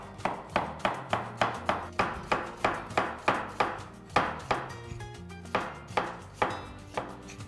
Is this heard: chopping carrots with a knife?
yes